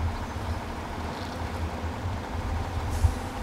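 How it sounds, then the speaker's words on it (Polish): A truck engine in the off-road driving game Spintires gives a steady, low, harmonic rumble at moderate loudness, with no voices and a single small knock near the end. "Będę odpalał silnika"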